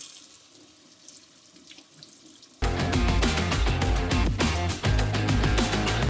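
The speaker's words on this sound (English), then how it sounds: "We're going to want to wash this lobster tail just like we did the first one." Running kitchen tap water pours over a raw lobster tail being washed, starting abruptly after a quiet moment and then gushing loud and close in a steady splashing stream, with no talking.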